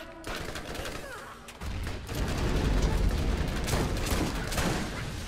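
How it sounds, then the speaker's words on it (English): Rapid gunfire from the video game Borderlands erupts after a quieter start, a dense sustained burst of shots and booms filling the last few seconds, with little talk over it. "And I'm using my powerful gun on you."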